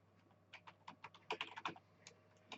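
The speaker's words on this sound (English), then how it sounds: "I'm going to begin typing in some lines here." Keys clatter on a computer keyboard while lines are typed into a Commodore 64 emulator, irregular quiet clicks in short bursts with pauses, close and alone.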